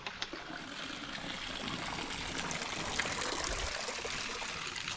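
Water trickling and pouring at a gemstone mine dig site, a steady soft splashing flow, fairly faint and close with no talking.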